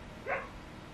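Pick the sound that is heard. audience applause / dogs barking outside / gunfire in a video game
dogs barking outside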